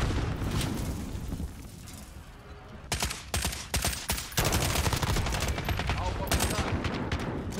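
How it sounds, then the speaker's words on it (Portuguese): Call of Duty: Modern Warfare match with a grenade blast followed by dense bursts of rapid gunfire, loud and close, crackling over a noisy battlefield bed with players chattering. "Lançando granada!"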